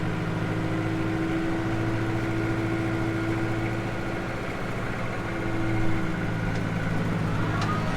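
Farm tractor running a round baler at about 1600 RPM while baling first-crop hay, a steady, continuous engine drone with a low hum and machinery whir throughout, no speech.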